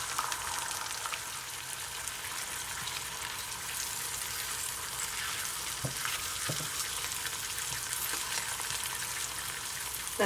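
An egg frying in a pan gives a steady, even sizzle throughout, with a couple of faint clicks midway and no talking.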